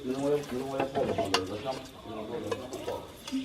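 Fritters sizzle and fry in a pot over an outdoor wood fire, a steady crackling hiss running throughout beneath voices talking nearby.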